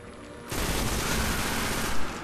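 Dense, continuous automatic gunfire erupts in the Destiny Phogoth Nightfall strike, a loud sustained barrage of rapid shots kicking in after a brief quieter lead-in, with a heavier boom near the end.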